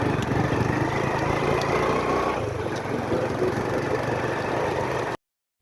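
A motorcycle engine runs steadily at close range with a continuous throaty drone and slight shifts in tone, then cuts off abruptly near the end.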